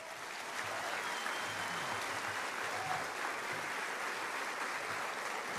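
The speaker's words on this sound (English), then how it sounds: "please rise and with thunderous applause, welcome the World War II veterans joining us today." An audience at a 75th D-Day commemoration gives sustained applause to welcome World War II veterans, with an even, continuous wash of many hands clapping that sounds somewhat distant and steady throughout.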